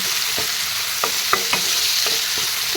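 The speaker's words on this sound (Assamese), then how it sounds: "মটৰকেইটা ভাজি ল'ম" Green peas frying in a pan make a dense, constant sizzle close by, broken by several short stirring clicks and scrapes of a spoon; no voices.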